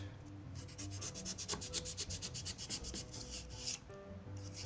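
Rapid rhythmic scraping as a craft knife saws through polystyrene foam, a quick series of close, even strokes with a dry rasping texture for a few seconds.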